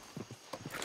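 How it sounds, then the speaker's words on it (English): A horse's hooves clip-clop in a Diablo role-play video game, a few quick, light hoofbeats in short irregular bursts, quiet and close. "I'm going to move my horse before it kicks."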